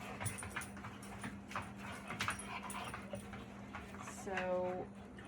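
A puppy whimpers and pants close by in a quiet outdoor woodworking setting, with soft breathy panting and a short high whine near the end, under occasional light knocks and handling noises.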